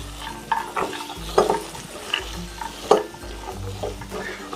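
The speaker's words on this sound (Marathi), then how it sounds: "आता यामध्ये मी मटार घालते आपल्या बटाट्याच्या प्रमाणात मी मटार घेतलेले आहेत ते छान या प्युरीमध्ये हलवून घेऊया" Green peas being stirred into tomato puree in a pan, with repeated scraping and stirring strokes and a soft sizzle underneath, close and fairly clear, no talking.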